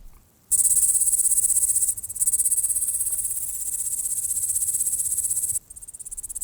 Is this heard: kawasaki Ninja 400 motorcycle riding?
no